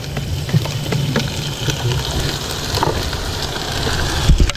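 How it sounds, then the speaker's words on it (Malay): Rain falls outdoors during a fishing outing, a loud, dense patter with occasional heavier drops and thuds close by, with no speech over it. "Hujan."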